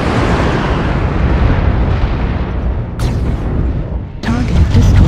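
A destroyed target mech explodes in Mechwarrior Online as a loud, dense roaring blast that fills the whole clip, with two sharp cracking impacts cutting in near the middle and again later.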